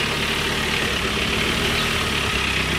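A BMW E87 123d with a replaced N47 diesel engine idles steadily nearby, a continuous low rumble with faint mechanical clatter and no talk.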